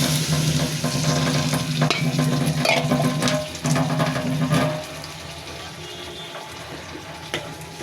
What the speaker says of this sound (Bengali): নাড়াচাড়া করে দিব